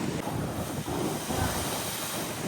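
Sea waves surge and wash in a continuous roar, mixed with heavy wind buffeting the microphone.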